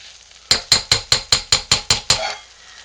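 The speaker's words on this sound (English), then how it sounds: "I'll clean down my spoon. And clean down the sides." Spoon knocking against the rim of a soap-making pot, nine quick, evenly spaced ringing taps close up, then stillness.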